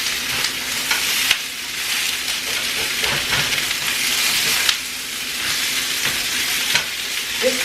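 Onion frying in a hot pan hisses in a loud, steady sizzle with a few faint clicks and shifts, close up and with no voices over it.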